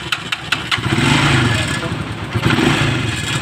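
A Rusi Macho motorcycle engine runs close by with a rough, uneven note; its carburetor needs a tune-up and the engine stalls when the throttle is turned. A few sharp clicks are heard at the start.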